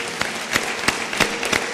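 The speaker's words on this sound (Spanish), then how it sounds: "pediría a la audiencia un aplauso para los panelistas" An audience at a Mexican forum claps for the panelists, a dense close burst of hand claps with a few sharper individual claps standing out.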